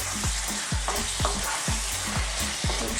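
Pork and red, yellow and green sweet bell peppers frying in a pan for an Italian-style dish, with steady sizzling broken by rhythmic scraping stir strokes about twice a second, close and clear with no talking.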